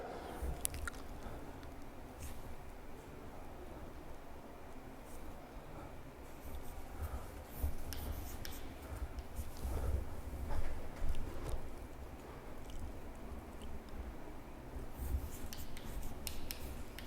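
A figure is drawn on a board during an electrochemistry lesson, with faint rubbing and scratching strokes that come and go over a quiet room.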